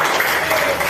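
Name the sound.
class applauding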